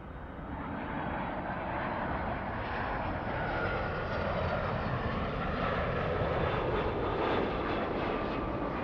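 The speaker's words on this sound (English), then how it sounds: "We have the A350 lining up." A Delta Airlines Airbus A350 at LAX gives off a steady, broad jet-engine roar at moderate distance, a sustained rumbling whoosh that holds level and swells slightly toward the end.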